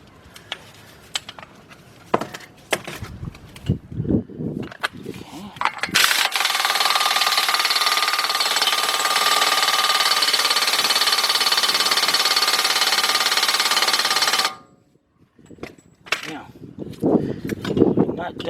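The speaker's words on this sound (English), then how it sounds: "now we're going to tighten up our axle nut right here" A 33 mm axle nut is run down on the front axle of a 2006 Kia Sorento LX with a loud, steady, buzzing power tool for about eight seconds. Talk and clanking tool handling come before and after.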